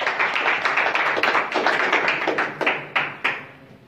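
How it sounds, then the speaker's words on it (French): Audience applause at a golf tournament press conference, a dense run of clapping hands that swells and then tapers into a few last claps, close and fairly loud. "j'aimerais bien qu'on applaudisse le golf de Mohamedia"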